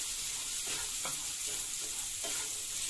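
Black chickpeas are stirred into a sizzling pan, with a steady frying hiss and a few soft scraping strokes of a spoon, close and without any voices.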